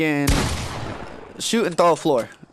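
Fortnite gunfire in a close, loud single blast that rings out briefly, followed by someone talking.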